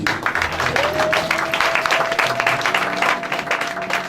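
A church congregation claps to acclaim the word of God, dense continuous applause with a steady held tone running beneath, loud and unbroken from start to finish.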